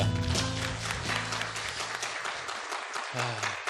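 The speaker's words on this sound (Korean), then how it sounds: "박수 한번 하겠습니다." People clap during an Easter Sunday church service, brisk applause over lingering musical tones and room sound, fairly close and continuous throughout.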